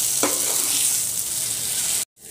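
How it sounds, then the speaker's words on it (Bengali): Spices for eggplant korma sauté loudly in a hot pan with coconut, salt and sugar, making a steady, close sizzle with a light stirring scrape. It cuts off abruptly near the end. "ভালো করে সব একসাথে কষাবো"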